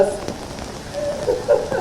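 Heavy rain pours down steadily, a continuous patter and hiss close by, with faint voices murmuring beneath it.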